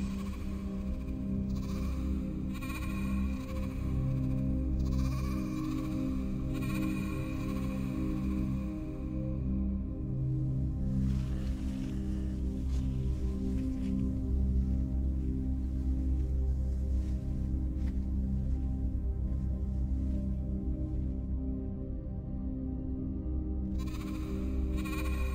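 Sheep bleat repeatedly in bursts over a steady droning background, with a quieter stretch in the middle before more bleats at the end; no one speaks.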